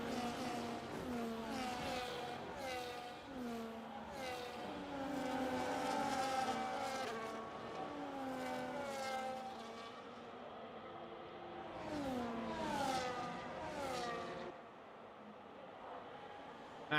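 Several race cars in an esports racing game on the Austria circuit roar past in overlapping engine tones, rising and falling with gear changes and revving, loud and continuous with no voices.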